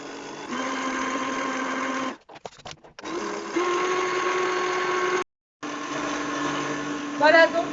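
A stand mixer kneads gluten-free vegan bagel dough with a steady motor whine that drops out briefly twice, then resumes, with a faint squeal near the end.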